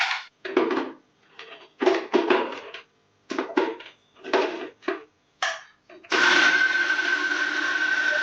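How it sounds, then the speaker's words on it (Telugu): A mixie grinder blends soaked urad dal and rice, starting with several short, choppy pulses and then settling into a loud, steady whirring run that continues to the end. "ఇలాగా పట్టుకోవాలండి మిక్సీ."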